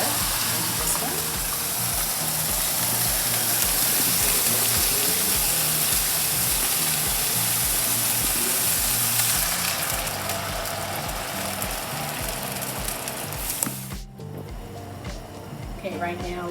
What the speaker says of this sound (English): So we're just going to add here at least a cup of water into this one.